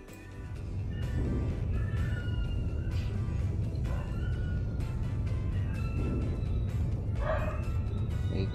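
Several dogs bark and yip in a busy, noisy room, the calls recurring through a steady wash of background noise without clear talk.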